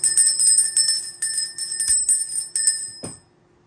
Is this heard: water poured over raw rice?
no